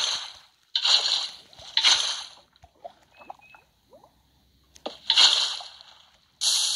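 Minecraft-style game water splashes and sloshes as it is placed in a built security room, with several short bursts of splashing and brief quiet gaps between them, close and moderately loud.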